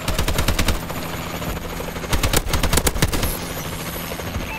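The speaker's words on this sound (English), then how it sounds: "Friendly warbird in the air." A Warbird aircraft in Call of Duty Advanced Warfare thrums overhead with a loud rotor-like drone, mixed with bursts of rapid machine-gun fire and scattered gunshots, fading slightly toward the end.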